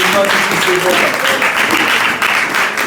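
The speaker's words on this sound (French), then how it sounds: "Acclamons un peu les talents" A Sunday church congregation claps for the performers in a dense, loud, continuous wash of applause, with voices mixed in throughout.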